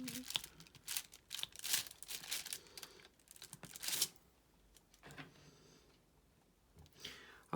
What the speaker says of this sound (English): Move some of this cellophane up.